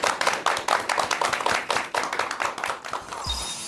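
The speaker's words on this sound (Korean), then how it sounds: "여러분 큰 박수 부탁드립니다." An audience at a lecture claps to welcome the speaker with a lively burst of distinct, crisp handclaps that continues for a few seconds and then fades out.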